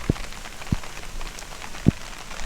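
Rain patters steadily on surfaces in a garden, with a few sharper, louder drops landing close by over a soft continuous hiss.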